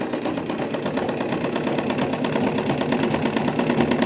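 A sewing machine joining two pieces of cloth for a pant, running in a rapid, even mechanical rattle with steady stitching pulses, close and continuous with no talk.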